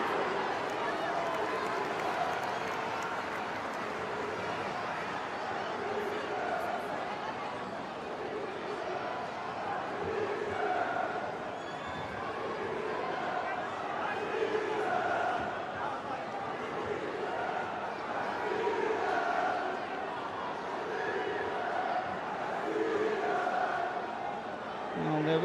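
A women's FA Cup football crowd in a stadium reacts with a sustained, distant roar and murmur that swells and dips gently for the whole stretch, with no clear single shout.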